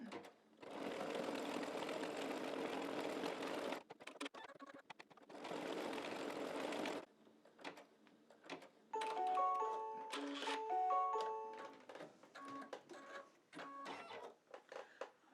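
An embroidery machine stitches a tack-down on fabric held in its hoop: two loud, dense bursts of rapid mechanical stitching separated by a pause, then quieter clicks and short tonal chirps.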